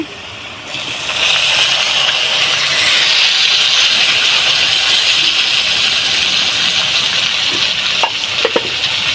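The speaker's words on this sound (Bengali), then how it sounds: "টমেটো কুচিটা দিয়ে ভালো করে ভাজবো।" Chopped tomatoes go into a pan of fried potatoes and hit the hot oil with a loud, steady sizzle that swells after a quieter start and keeps hissing close up, with a few faint clinks near the end.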